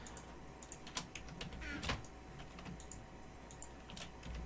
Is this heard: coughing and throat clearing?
no